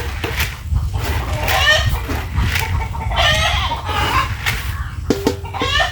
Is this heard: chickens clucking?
yes